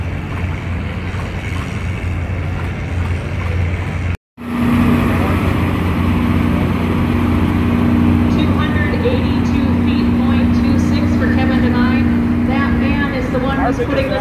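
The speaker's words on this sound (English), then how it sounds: "these old engines, this one here and that other one in the other room, is that they start on air" An old engine at the LeSueur County Pioneer Power Show turns over on compressed air after a brief gap, then settles into a steady, loud mechanical drone with a constant hum throughout, while someone talks nearby.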